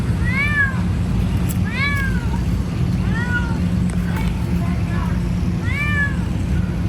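Several separate meows from a cat up in a tree, spaced a second or two apart and fairly distant, over a steady low rumble of outdoor background noise in an overgrown yard.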